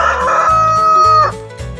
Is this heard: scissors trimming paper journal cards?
no